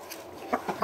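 A few short, soft clucks from backyard chickens, heard within under a second of quiet.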